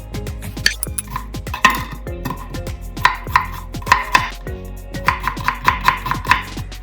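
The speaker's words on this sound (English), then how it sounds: "Chop your onion." A knife chopping an onion on a cutting board, loud close knocks in quick uneven bursts with short pauses between runs of cuts, no talking.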